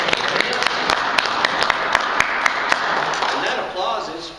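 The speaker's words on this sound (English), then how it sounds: "And that applause is for you because you guys did it." Audience applause at a company winter conference, a mix of clapping with a few sharp, distinct claps standing out near the microphone. It tapers off toward the end, with chatter and voices blended into the crowd noise.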